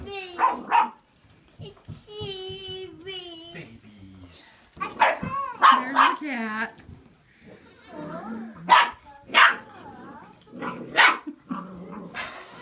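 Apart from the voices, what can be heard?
puppies and mother dog barking and growling over food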